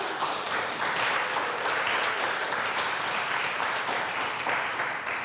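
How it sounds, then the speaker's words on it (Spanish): A church audience applauds during a Spanish-language sermon, a continuous, even wash of many hands clapping for about five seconds without speech. "Le damos un aplauso al Señor."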